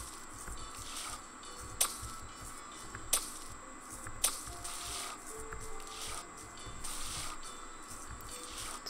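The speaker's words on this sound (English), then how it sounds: "let's water our strawberries because everything else is harvestable" Watering strawberries in the video game Garden Paws, soft splashing and spraying sounds over quiet background music, with a few sharp clicks and no one talking.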